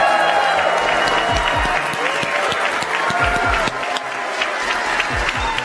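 A large keynote audience at AMD's Zen Ryzen chip announcement applauds and cheers as the CEO comes on stage, a loud sustained wash of clapping with crowd noise and some talking mixed in.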